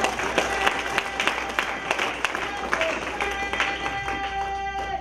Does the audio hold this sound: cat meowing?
no